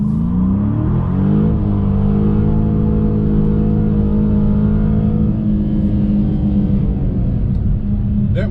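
A Dodge Challenger 392 V8 accelerating hard in second gear with the tires briefly spinning, deep loud rumbling engine note rising and holding steady, heard close from inside.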